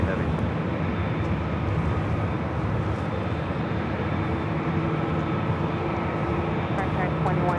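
A Delta heavy airliner taking off from runway 24 left at LAX, a loud, steady jet roar that holds throughout at a moderate distance, with voices present.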